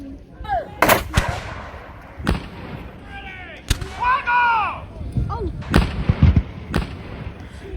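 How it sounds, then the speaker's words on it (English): Cannon fire from a Civil War artillery bombardment of Fort Sumter: sharp, loud booms and cracks at irregular intervals, mixed with whistling, sweeping tones and busy battle noise. "every Confederate gun in the harbor was pounding Fort Sumter"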